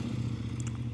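A CFMoto 800NK parallel twin with a 285-degree crank runs steadily close by, giving a continuous low, throbbing engine note with no speech over it.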